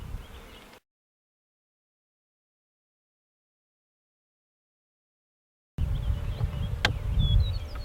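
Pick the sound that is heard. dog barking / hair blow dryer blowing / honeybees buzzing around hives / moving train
honeybees buzzing around hives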